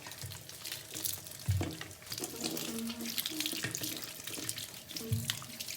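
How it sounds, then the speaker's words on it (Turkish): Shower water runs and splashes steadily, with uneven bursts and shifts in the spray as it hits surfaces, close and fairly loud with no talking. "Duş alma yerine geldim. Hemen duşumu alayım"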